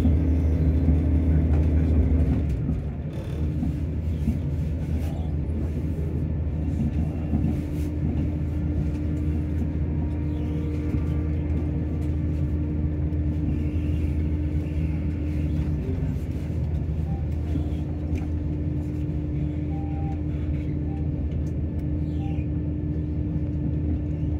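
A steady low rumble and hum of a moving CrossCountry Class 170 train from inside a carriage after leaving Birmingham New Street, continuous and even throughout, with faint rattles.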